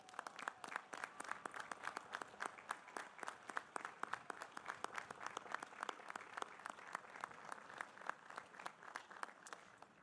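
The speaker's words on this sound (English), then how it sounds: "let us give you a special round of applause" A large commencement crowd claps for standing mothers, a sustained rapid patter of many hands heard from a distance, faint and steady throughout, with no talk over it.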